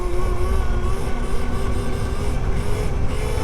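Skeri EDB00 mini electric dirt bike motor running under throttle, a steady close whine with tonal hum and rumbling rolling noise, sustained without pauses and no talking.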